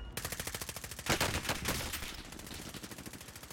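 Rapid automatic gunfire in Call of Duty Warzone, a fast regular stream of shots with a louder burst of overlapping fire midway, dense and close throughout.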